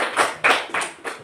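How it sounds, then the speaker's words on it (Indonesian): Short burst of hand clapping by a class of students showing agreement, a few quick rhythmic claps close by and fairly loud. "mari kita tepuk tangan."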